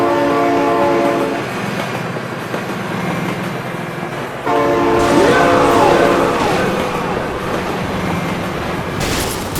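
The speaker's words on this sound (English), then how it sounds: "train!" Train passing in the BeamNG.drive driving game, a loud sustained rumble with a blaring horn chord that swells midway, continuing steadily to the end with no pauses.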